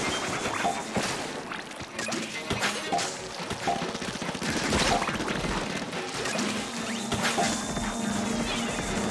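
Rapid weapon fire from Splatoon 3 comes in dense, repeated bursts of sharp, splattering shots that run continuously over game music and effects, with no clear talk.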